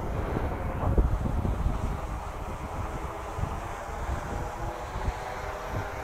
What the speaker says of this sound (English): we got wind coming up the canyon